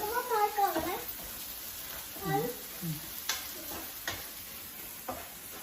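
Curry in a pan being stirred after turmeric is added, with soft, intermittent scraping and faint sizzling close by, while a person talks over it.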